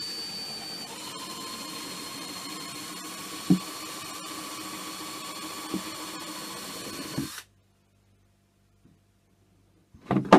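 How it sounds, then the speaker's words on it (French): A power drill bores a hole through a plastic jug with a steady, close, high whine for about seven seconds, then stops abruptly into near silence before a few handling knocks. "Et puis on vient percer le bidon."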